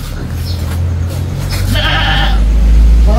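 A goat bleats near a house on an island close to Masasa Beach, Tingloy: a short, wavering bleat sounds over a steady low engine drone.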